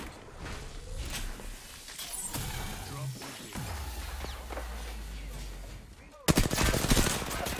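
Spitfire machine gun fire in the Apex Legends video game, heard as bursts of gunfire mixed with chaotic game effects, then a loud dense rapid stream of shots near the end.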